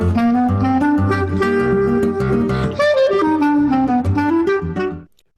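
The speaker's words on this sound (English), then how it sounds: "so that's the result on the guitar" Solo acoustic guitar plays a syncopated Brazilian melody with the in-between subdivisions filled by harmony notes, a steady close-miked line of plucked notes that rings out and stops near the end.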